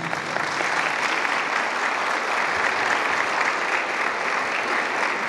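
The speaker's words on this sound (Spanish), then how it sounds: "Gracias por los aplausos." Sustained applause from an audience at a retirees' association event, steady and dense clapping filling the whole stretch without letting up.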